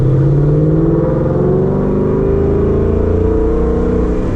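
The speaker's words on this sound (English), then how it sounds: "I'll let the car roll up to 40" A 2019 Ford Mustang GT V8 rolls up to about 40 mph, its engine note a steady low drone that rises gradually in pitch as it gains speed, loud and close, with no one talking.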